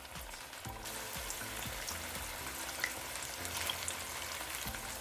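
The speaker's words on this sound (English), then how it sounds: "Fry wings for 4 to 5 minutes until lightly golden." Chicken wings dusted in potato starch frying in hot oil, a soft, steady crackle and sizzle with scattered pops, quiet and close, with no talking.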